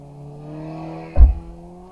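A motorcycle engine idles with a low hum, then gives one short, sharp rev before settling back down.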